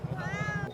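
A pet cat gives one drawn-out meow, its pitch rising and then falling, set against a soft low pulsing hum.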